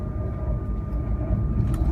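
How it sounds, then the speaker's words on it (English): A Hexie high-speed train rumbles as it nears Shanghai Hongqiao Station, heard from inside the carriage as a steady low-pitched roar with a faint tonal hum and no talking. "the train will soon be stopping at the destination, Shanghai Hongqiao Station, in a minute"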